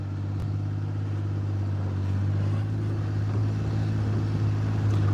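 Four-wheel drive vehicle crawling along in four-wheel drive mode, its engine a steady loud low drone heard from inside the cab, unchanging throughout with a faint rattle on top.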